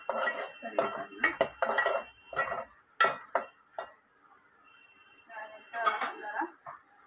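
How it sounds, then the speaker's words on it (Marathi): A spoon scrapes and clanks against a pot while chicken masala is stirred, in bursts of metallic clatter and scraping separated by short quiet gaps; a faint voice murmurs in places. "हलवे आपण मसाला चटणीमध्ये टाकलेला मसाला अशा पद्धतीनं हलवायचं सगळीकडनं."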